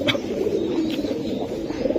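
Silver Giribaj pigeons cooing, soft repeated low coos close by, layered over a steady background murmur with no voices.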